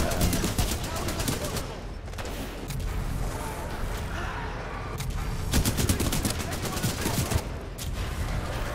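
Sustained rapid automatic gunfire from the Flatline SMG in the video game Titanfall 2, loud and dense throughout with bursts and short gaps, over a busy battle mix.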